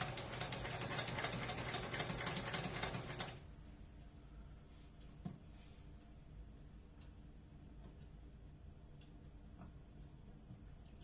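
A sewing machine stitches a lapped zipper in a rapid, even whirring run for about three seconds. It then stops and leaves quiet room sound with a single soft click.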